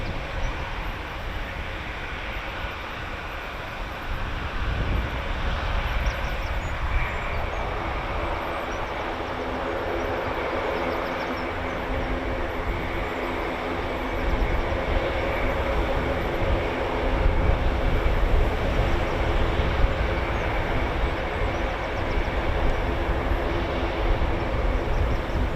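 An RAF C-130J Hercules taking off at Brize Norton, a heavy, continuous turboprop roar that builds steadily in loudness over the whole stretch, with no speech.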